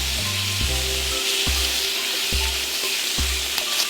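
Sausages sizzle steadily in a frying pan with a dense, bright crackle, and a few low scraping knocks from the pan or utensil recur in a loose rhythm underneath.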